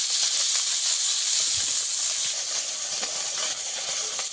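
Small pond fish fry in hot oil with a steady, close, bright hiss that stays even and unbroken throughout, with no voices.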